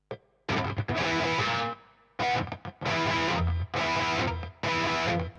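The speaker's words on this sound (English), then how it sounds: "So I've got a little delay on this rhythm sound." Distorted rhythm guitar chords with a subtle delay effect, played in loud bursts with short gaps between strummed phrases, no talking.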